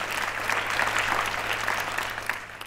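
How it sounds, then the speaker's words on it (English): An audience at an international film award show applauds a women's film festival director, brisk clapping from a sizable crowd that holds steady and then tapers slightly toward the end. "Please give a round of applause for Tara Johnson Medinger."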